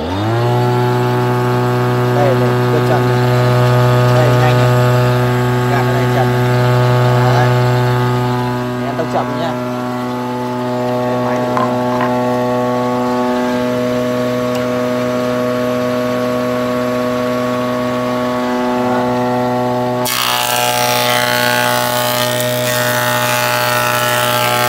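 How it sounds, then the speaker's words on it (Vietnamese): A Nishino combination woodworking machine with a two-speed gearbox runs with a loud, steady motor hum and strong harmonic drone, with occasional cutting noises and a brief shift near the end. "Bật máy này."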